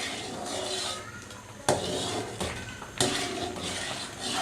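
Spoon scraping and stirring semolina halwa with almonds as it roasts in a pan, a steady scratchy rasp with a few sharper metallic knocks against the pan.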